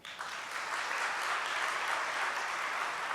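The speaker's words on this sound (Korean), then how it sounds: "박수 한번 해주세요" A church congregation at a Sunday afternoon service breaks into applause after a brief pause, a full, even round of clapping that holds steady throughout with no talk over it.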